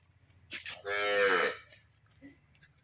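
A single cow lets out a clear moo close by, preceded and followed by faint rustling in a quiet setting.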